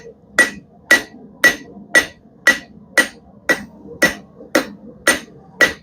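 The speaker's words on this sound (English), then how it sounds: "Gotta start hammering this stuff down quick because it's only going to cool off from here." A blacksmith hammers a taper into hot steel fresh from the forge for a chain hook, eleven loud, evenly spaced ringing blows about half a second apart, close up with no talking.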